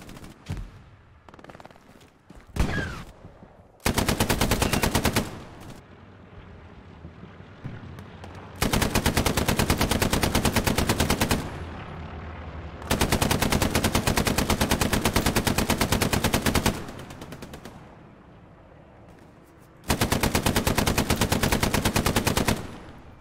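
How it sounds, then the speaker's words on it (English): Machine gun bursts from a realistic shooter video game, several long, loud sustained volleys of rapid automatic fire separated by short pauses and a few scattered shots early on. "Wrecking it with the MG."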